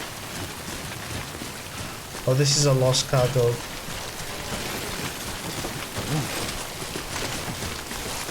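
Steady rain falls in the video game Death Stranding, a continuous even hiss throughout, with a voice speaking briefly over it partway through.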